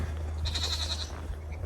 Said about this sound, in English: let's feed some of these goats